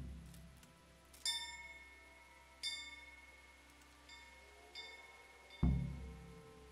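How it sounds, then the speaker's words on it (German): A bell rings out several times in the video game Kingdom Come: Deliverance, clear metallic dings spaced a second or so apart with lingering tails, ending in a louder low thud. "da haben wir das Rathaus und da müssen wir eine Glocke läuten"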